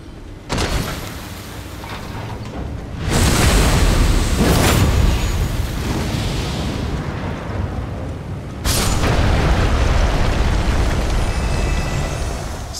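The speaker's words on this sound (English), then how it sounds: "you then need to jump off, run away, and it will then, a few moments later, explode, also dealing damage to anything that is nearby" An exploding detonated enemy in Elden Ring, heavy booming blasts that come close and loud: one eruption with a sustained roaring rumble, then a second detonation hitting hard and rumbling on, no voices.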